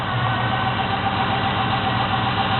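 A small-block Chevy 350 with FiTech EFI idles at close range, a steady, loud rumbling drone with even low-end pulsing throughout and no voices.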